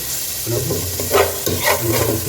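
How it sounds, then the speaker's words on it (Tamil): Tomato dropped into hot oil already popping with mustard seeds for a Chettinad beef gravy, giving a steady sizzle with stirring scrapes and short louder bursts, close by with no talk. "நண்பா இப்போ தக்காளி போட்டுக்கலாம் ஒரு தக்காளி"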